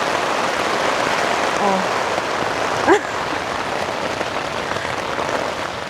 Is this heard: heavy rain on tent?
yes